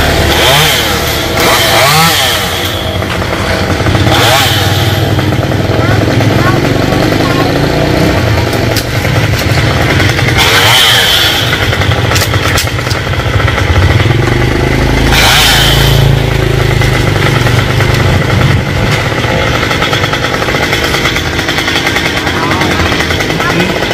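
A chainsaw roars loudly and close, cutting branches from a tree near power lines, its engine revving up and down in repeated bursts, with voices talking over it.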